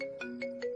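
Phone ringtone of an unanswered call: a steady electronic tone that swells into three evenly spaced bright pulses, moderately quiet and alone.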